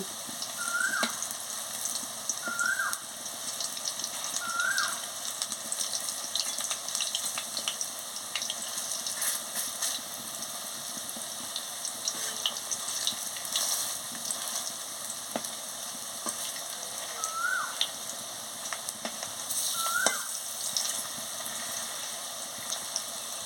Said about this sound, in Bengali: এক পাশ লাল লাল করে ভাজা হয়ে গেছে আরেক পাশ ভেজে নিচ্ছি